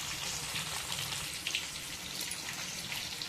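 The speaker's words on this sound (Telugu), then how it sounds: "చేపలైతే ఒక ఫ్రై అవుతున్నాయి" Bangda mackerel fish fry in hot oil, a faint, steady crackling sizzle with small pops, heard alone without talk.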